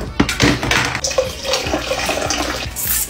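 Coconut water pours for a banana coffee smoothie, a close, continuous splashing trickle of liquid filling a container for about three seconds, with a few light knocks of handling mixed in.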